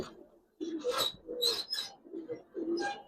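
A female pigeon cooing in several throaty, rolling bursts, close by, with brief pauses between calls and no talking.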